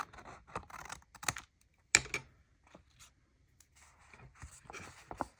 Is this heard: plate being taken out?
no